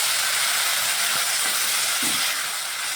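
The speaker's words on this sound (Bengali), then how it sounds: "ভালোভাবে একটু মশলাটাকে ভালোভাবে ভেজে নিচ্ছি" Spices with tomato puree frying in a pan, giving a steady, loud sizzling hiss that continues throughout with faint clinks.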